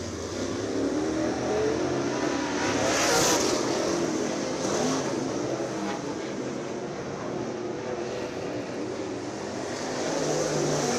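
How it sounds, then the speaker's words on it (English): Late model race cars, a mix of 602 and 604 crate and super late models, circulate on track at Screven Motor Speedway. Engines roar as a broad, continuous drone that swells as a pack passes close and then eases. "got a mixture of late models out on the track, whether it be 602, 604s could be blended in, or supers"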